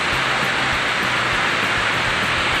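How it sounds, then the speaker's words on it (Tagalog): Heavy rain pours down continuously at a backyard koi pond, a dense, loud, even hiss that stays constant throughout with no voices. "ang lakas ng ulan, no?"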